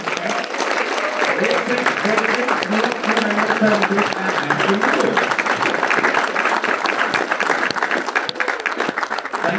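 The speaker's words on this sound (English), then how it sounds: "So if we can get one more huge round of applause" Loud, sustained applause fills the room at a convention artists' panel, a dense crowd clapping continuously while voices talk and call out over it.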